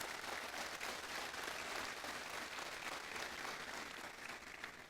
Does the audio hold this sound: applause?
yes